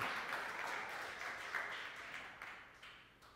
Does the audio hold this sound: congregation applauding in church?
yes